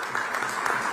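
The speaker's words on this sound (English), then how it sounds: "Let's give a big round of applause" Audience applause at a large technology and leadership gathering in Visakhapatnam, a steady wash of clapping throughout the short moment.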